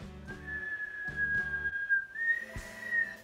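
A person whistles a simple sustained tune with a few pitch changes, fairly quiet and close, accompanied by soft rhythmic background thumps.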